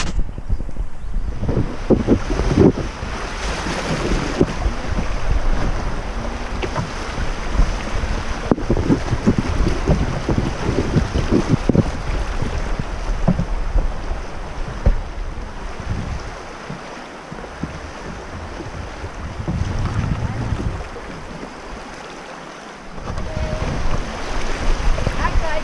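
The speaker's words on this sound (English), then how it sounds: "here we are on a little tiny rapid here on the Shenandoah River" Water rushes over a small rapid on the Shenandoah River during a float trip, a steady broadband wash heard close up and mixed with gusty wind buffeting the microphone for the whole stretch.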